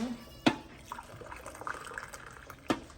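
Water poured into a container to mix milk replacer for goat kids, a soft splashing trickle with two sharper drips or splashes, close by and fairly quiet.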